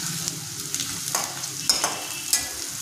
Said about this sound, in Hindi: चलाते हुए इसे हम 2 मिनट तक भून लेंगे।